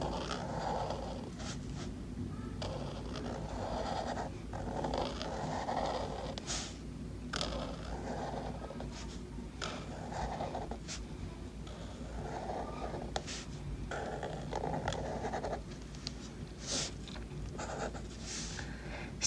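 A pen moves across paper in quiet, scratchy strokes as the word cactus is written in a simple calligraphy style, with short bursts separated by small pauses over a soft background hiss.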